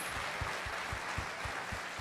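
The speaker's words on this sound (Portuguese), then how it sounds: "Eu queria um grande aplauso para esses pais, pode ser?" A church audience claps steadily and continuously, a dense wash of hand claps with a few louder beats standing out.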